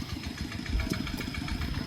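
A walk-behind tractor engine idles in a rice paddy during transplanting, a close, steady low chugging putter that runs without a break for the whole short stretch, with no speech.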